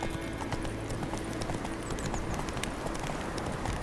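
Roach the horse gallops in The Witcher 3, a steady clip-clop of hooves pounding continuously and fairly loud over a dense game backdrop of ambient sound, with no talk.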